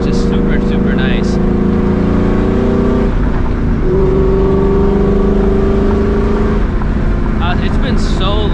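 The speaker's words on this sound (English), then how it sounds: "It's been so long since I've heard the exhaust on this car. Like, it's super loud." A 1999-2004 Ford Mustang GT with an aftermarket exhaust drones loudly and steadily while driving, its low engine note rising and settling, with a person talking over it.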